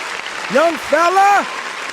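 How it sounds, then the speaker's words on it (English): A podcast audience or soundboard applause plays steadily for about two seconds, with a voice letting out two rising-and-falling whoops over the clapping. "I got to give that man a round of applause"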